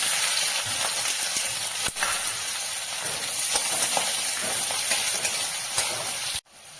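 Onion hits hot tempering oil for upma and keeps up a continuous loud sizzle and hiss, close by, with faint crackles running through it.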